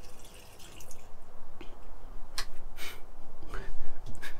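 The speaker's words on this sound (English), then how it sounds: "So you got the sink button here. Turn it on. Control your sink here." A boat's sink faucet on a Defiance San Juan 220 pilothouse, running water in a steady hiss with a few splashy bursts, close by, as someone talks over it.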